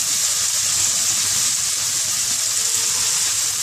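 Garam masala and bay leaves fry in hot oil in a pan, giving a loud, steady, close sizzle that never lets up, with no talking.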